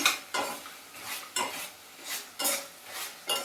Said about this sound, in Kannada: ತುಂಬ ಇದನ್ನು ಸ್ವಲ್ಪ ಫಾಸ್ಟಾಗಿ ಮಿಕ್ಸ್ ಮಾಡಬೇಕು